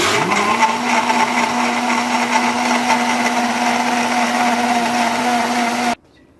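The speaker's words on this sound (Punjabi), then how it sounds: "ਹੁਣ ਆਪਾਂ ਇਹਨੂੰ ਮਿਕਸੀ ਨੂੰ ਚਲਾਵਾਂਗੇ" An electric mixer grinder blending bael fruit pulp into juice whirs steadily at high speed, loud and close, with a constant motor hum, then cuts off abruptly near the end.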